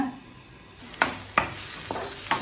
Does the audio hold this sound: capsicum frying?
yes